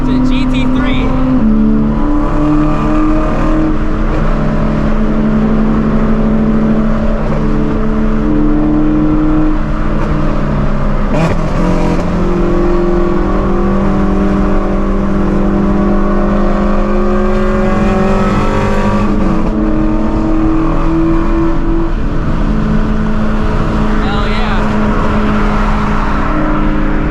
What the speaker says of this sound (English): It's a GT3.